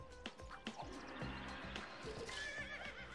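Cartoon horse neighing in the video game LittleBigPlanet: a short whinny with rising, wavering tones, set over busy game music and effects, fairly quiet overall.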